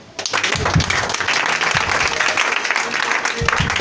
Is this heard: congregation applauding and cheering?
yes